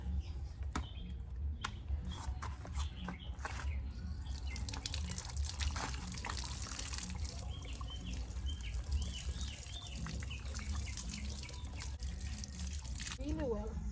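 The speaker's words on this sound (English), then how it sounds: "So I wash my hair under this pipe." Water runs steadily from an outdoor pipe as hair is washed beneath it in Jamaica, a continuous close splashing trickle with scattered drips and faint birdsong in the background.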